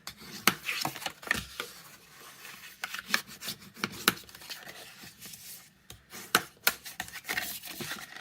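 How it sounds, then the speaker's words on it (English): Scored paper card stock folded and burnished for a bow box, giving soft intermittent rubbing and scraping strokes with sharp little clicks and taps, close and quiet. "we're going to fold and burnish our score lines"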